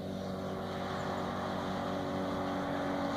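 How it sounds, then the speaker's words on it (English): A motorboat engine hums steadily and loudly nearby as it passes on the water, a constant low drone with no talking. "Heard quite a few boats this morning."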